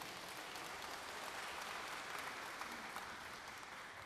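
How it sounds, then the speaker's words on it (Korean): Dense, sustained clapping from residents gathered at a community briefing on a Bulgwang-dong redevelopment plan, many hands together, even and unbroken, heard from within the room at moderate distance. "다시 한번 뜨거운 박수 부탁드리겠습니다."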